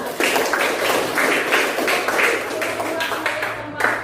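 A classroom of students applauding a presentation group, with a modest number of hands clapping in distinct, somewhat rhythmic bursts, fairly close and clear, with light voices mixed in.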